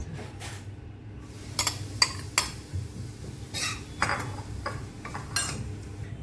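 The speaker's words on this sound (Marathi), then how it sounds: "तुपावर परतून घेते आहे" Grated coconut is stirred and sautéed in ghee in a pan, with intermittent clinks and scrapes of a spoon against metal over a steady low hum, close and fairly quiet, with no talking.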